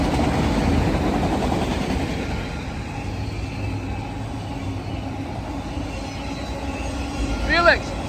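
A train rolls past in Cornwall, Ontario during a dim solar eclipse, a continuous rumble of wheels on track with rhythmic clatter for several seconds, ending in a brief high metallic squeal; a voice can be heard faintly.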